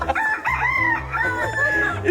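A large, fancy black rooster on a chicken farm in a Philippine mountain town crows and clucks at close range, its loud, strained calls rising and falling repeatedly.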